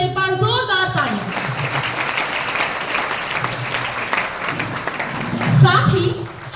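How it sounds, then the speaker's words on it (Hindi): Loud sustained applause from an audience of students at a school anti-drug campaign closing ceremony, honoring a chief guest, with a voice speaking over the clapping near the start. "सर के सम्मान में बच्चों एक बार जोरदार तालियां।"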